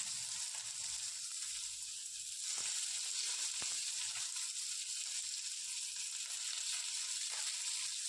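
Chopped onions frying in oil sizzle and crackle steadily in a pan, a hissing bed of frying with occasional sharper pops and stirring scrapes, close and continuous, no talking.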